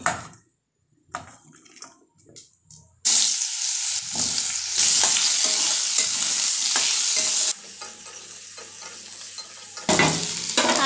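Vegetable curry, started after fish frying, hits hot oil in a pan with a sudden loud, steady sizzle that carries on for several seconds, with soft stirring scrapes and a brief quieter stretch near the end.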